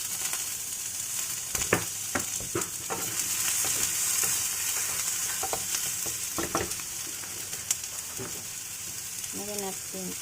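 Capsicum hits a hot frying pan with a broad, steady sizzle, while scattered clicks and scrapes of stirring utensils sound close by throughout.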